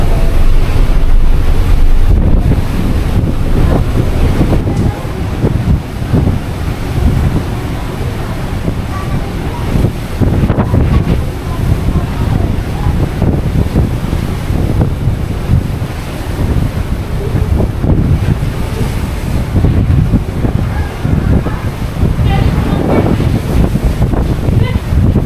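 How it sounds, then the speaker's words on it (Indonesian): Strong wind roars and buffets steadily throughout, loud and close, with a constant rumbling low end and no clear voices, as a ship docks at Tanjung Priok port in Jakarta. "Wah, angin kencang,"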